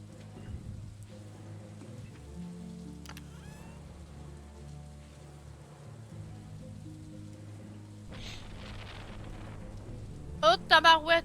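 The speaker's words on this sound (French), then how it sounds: "Mais il pleut." Rain falling in Stardew Valley, a steady soft wash through the whole stretch with a few brighter sharp chirps near the end; a voice speaks quietly early on.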